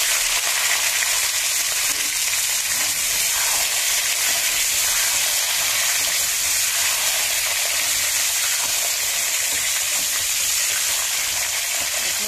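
Fennel, red chillies and fenugreek seeds sizzle in hot frying oil, a steady loud hiss that continues unbroken and close up with no talking.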